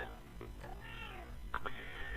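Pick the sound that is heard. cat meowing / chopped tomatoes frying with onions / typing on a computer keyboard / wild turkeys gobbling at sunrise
cat meowing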